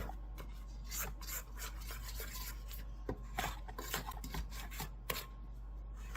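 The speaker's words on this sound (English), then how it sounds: "we need to scrape the sides" A spatula scrapes the sides and bottom of a bowl of chocolate chip cake batter, making a soft, close rubbing and rasping in irregular strokes that run steadily with no talk over them.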